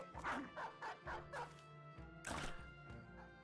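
A dog in the video game Battle Brothers barks and yips in a rapid run of sharp calls, then a louder double bark, over a low steady game soundtrack.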